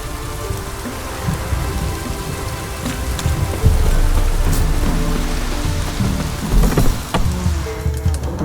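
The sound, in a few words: heavy rain downpour in video game The Witcher 3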